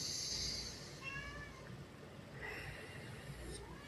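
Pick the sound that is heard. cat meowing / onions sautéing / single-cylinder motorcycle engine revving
cat meowing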